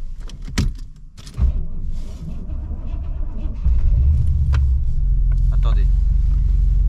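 Legends race car engine cranking and catching, clicks and clunks first, then a loud, steady low rumble settling into idle close by.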